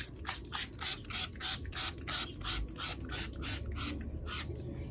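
Spray bottle of water with a squirt of dish soap misting a vehicle's surface, about a dozen quick rhythmic hissing pumps in steady succession, fairly close and with no talking.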